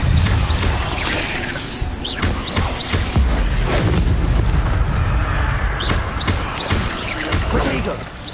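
Spell combat in Hogwarts Legacy, with the Incendio fire spell cast amid dense, loud bursts, whooshes and booming impacts that continue over more than eight seconds, and a voice speaking over them.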